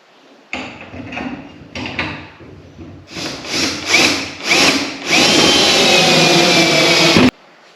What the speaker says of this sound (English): I just tightened this nut and now I gotta loosen it